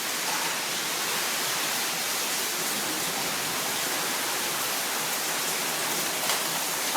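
A hailstorm in Uberlândia pours down as a steady, dense hiss and roar of ice striking surfaces, unbroken and close for the whole stretch.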